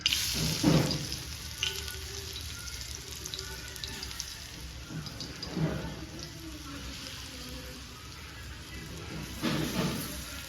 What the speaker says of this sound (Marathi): ह्याच्यामध्ये मी टाकून घेतले तेल आता घेते वडे टाकून